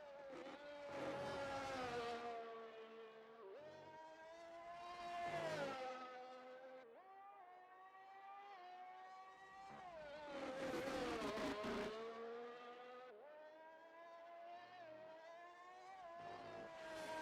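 Race cars in a racing video game at the Belgium round roar past on track, their engine notes climbing and falling as several cars sweep by in succession, loud and continuous with no talking.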